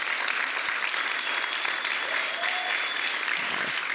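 Sustained applause from a conference audience in an auditorium fills the space, a dense, steady wash of many hands clapping at even loudness with no voices above it.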